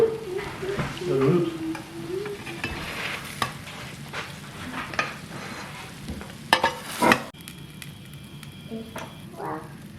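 Bacon sizzles and crackles in a frying pan under a few scraping and clattering pan sounds, with a brief voice early on before the sizzle thins out.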